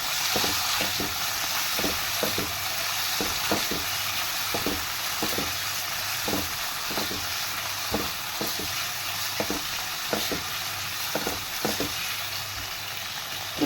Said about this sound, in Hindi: चिकन को थोड़ा सा फ्राई करूंगी।